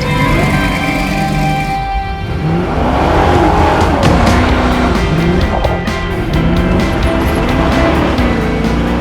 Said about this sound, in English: I was the one that originally designed the engine because I wanted the lope sound.